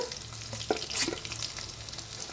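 Garlic sizzles and crackles steadily in hot oil while a cauliflower fry is being made, with a few louder pops and spoon scrapes over a continuous close hiss. No talking.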